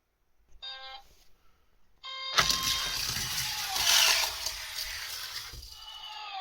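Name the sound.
1:64 diecast Lotus Europa car rolling down race track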